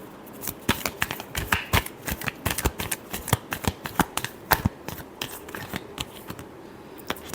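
Tarot cards being shuffled by hand, a quick run of crisp, close riffling flicks and soft slaps repeating in bursts, with no talk over them.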